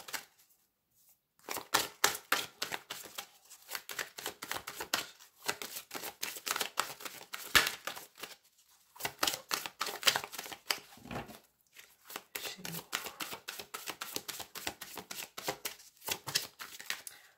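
Tarot cards shuffled by hand before a reading, a run of crisp riffling and flicking bursts in several bouts with short pauses, close and fairly quiet, no talking.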